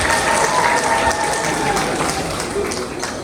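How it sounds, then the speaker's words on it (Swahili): Applause from a gathering at a religious jubilee celebration in Msimbazi, steady and moderately loud, with crowd murmur, fading slightly toward the end. "Makofi tena hapo ndugu Masawe"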